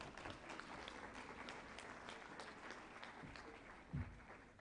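Audience applause at a live-streamed event following an introduction, a steady wash of many hands clapping from a moderately distant crowd, continuous throughout with a brief louder thump near the end.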